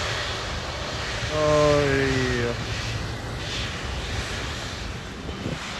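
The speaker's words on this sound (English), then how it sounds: "A good way to end today is to get jet blasted by this Qatar Airways 777 taking off." Qatar Airways Boeing 777-300ER jet taking off at Phuket airport, a loud roaring engine rumble with a rising whine swelling briefly then fading into steady wind noise, with a man's brief remark.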